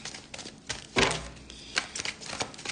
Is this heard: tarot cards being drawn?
yes